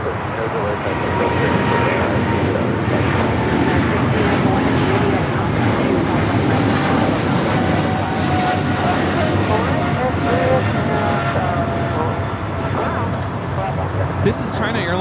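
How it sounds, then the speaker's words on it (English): A China Airlines Cargo Boeing 777 freighter takes off at Los Angeles airport, its engines a loud, sustained broadband roar that holds steady throughout, with talk faintly underneath. "This is China Airlines Cargo 5382 taking off to Miami on the 777 freighter."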